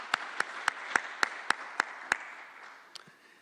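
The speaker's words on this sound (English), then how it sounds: "So let's give us a round of applause for our talented researchers." Applause for researchers at a COVID-19 research funding announcement. About eight crisp, evenly spaced claps sound close by and fairly loud, then they fade into quiet room tone.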